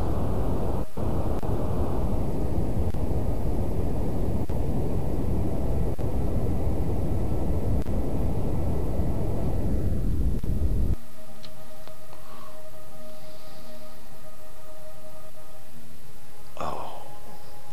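Rocket engine in the game Kerbal Space Program roars as a loud, steady broadband rumble, then throttles back and cuts off abruptly, leaving faint residual tones and a brief chirp.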